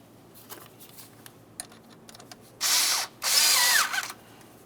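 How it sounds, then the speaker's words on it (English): A cordless power driver whirs in two short, loud bursts, close up, to tighten the 8mm clamp on the air inlet tube at the throttle body of a 2003-2011 Mercury Grand Marquis, after light handling clicks and taps. "continue on by tightening your 8mm clamp."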